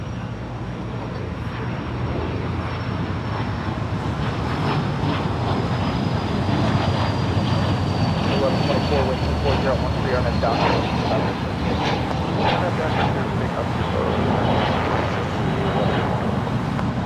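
An airliner departs Los Angeles International Airport, producing a sustained broad engine roar mixed with wind buffeting, steady and fairly loud over the whole stretch.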